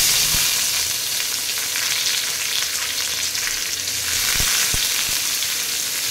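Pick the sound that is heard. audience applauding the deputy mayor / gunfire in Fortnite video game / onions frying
onions frying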